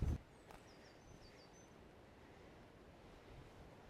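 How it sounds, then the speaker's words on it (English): Soft, steady surf washes in the distance under faint wind on a beach near Edinburgh, with a few high bird chirps and a brief thump at the start. "Just walking along, having a listen to the sea."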